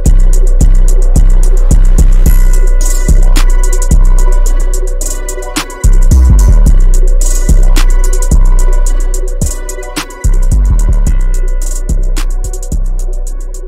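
A synth beat made in FL Studio with a fire preset synth melody, loud and upfront over punchy kicks, deep bass and crisp hi-hats in a steady rhythm, with brief drops where the drums pause.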